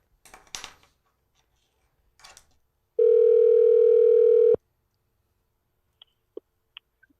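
A few faint clicks, then a steady telephone tone rings out for about a second and a half before cutting off, followed by scattered quiet ticks.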